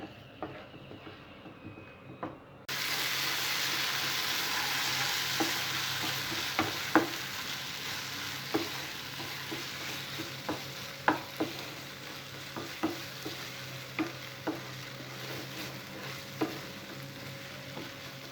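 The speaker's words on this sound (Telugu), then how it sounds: "ఈ టమాటో పేస్ట్ కూడా పచ్చి వాసన పోయే వరకు బాగా ఫ్రై చేసుకోవాలి." Tomato paste frying in a pan for a tomato egg curry, a steady hiss of sizzling that starts abruptly after a quiet lead-in, with scattered spoon scrapes and stirring clicks throughout.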